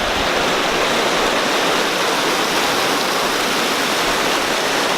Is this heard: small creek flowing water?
yes